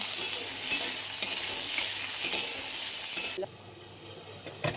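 Pointed gourd (potol) frying with chopped onion in a pan for a home-style chorchori, a bright continuous sizzle broken by stirring scrapes and clinks, then the hiss drops sharply toward the end.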